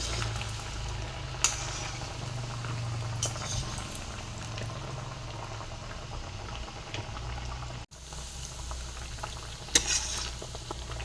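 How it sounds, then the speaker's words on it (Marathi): Coriander cutlets deep-frying two or three at a time in oil over low heat, a continuous close bubbling sizzle with a few faint utensil clicks and one brief break. "एकदम दोन दोन तीन तीनच तळून घ्यायचे"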